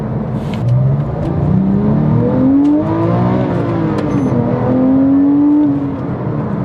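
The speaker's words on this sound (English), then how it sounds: "The engine revs really nicely. It's got a great sound." A 997.1 Porsche 911 engine revving up and down in long sweeping pulls, the pitch rising and falling, loud and close with a raspy exhaust tone.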